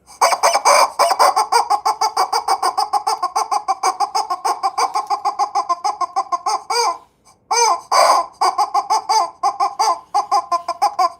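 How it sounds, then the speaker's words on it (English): Rubber chicken toy squeezed over and over, producing a loud, rapid run of nasal squawking squeaks with one short pause, close up and without any talk. "But I do have a rubber chicken."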